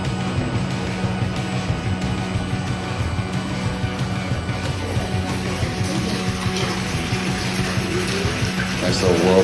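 Hot rinse water swirls in a whirlpool inside a brewery fermenter during cleaning, a steady rushing and churning wash with a deep resonant drone beneath it, continuous and close throughout.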